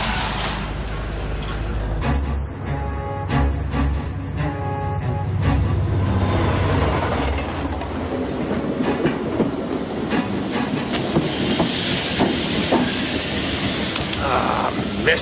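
A subway train rushes past with a loud, steady rumble and hiss, rhythmic wheel clatter rising over the first few seconds before settling into a continuous roar that lasts the whole stretch, with no voices.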